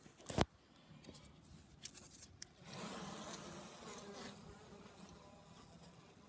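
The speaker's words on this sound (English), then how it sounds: "I think she's a guard bee" Honeybees buzzing around an 8-frame hive in winter, a close bee passing loudly near the start, then a sustained hum of several bees swelling and lingering around the entrance.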